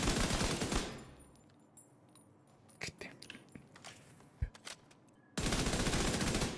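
Video game gunfire comes in loud bursts of rapid automatic shots at the start and end, with scattered sharp metallic clicks and single cracks in the quieter stretch between them.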